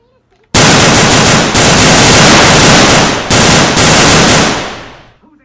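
A light machine gun in a zombie game fires sustained, very loud rapid bursts at close range, with two short breaks before the shooting trails off.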